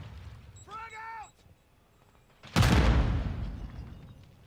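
A frag grenade goes off in Call of Duty Modern Warfare II: a short electronic chirp, then a sudden heavy blast that rumbles and decays slowly over the last couple of seconds.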